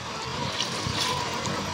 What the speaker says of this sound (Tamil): ஓகே, தண்ணி ஊற்றிட்டாங்க.